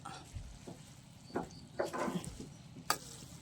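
Noodles stir-fried in a pan for a Valentine's Day meal outdoors, heard as close, scattered scraping stirs and soft sizzling in short bursts, with a sharp clatter near the end.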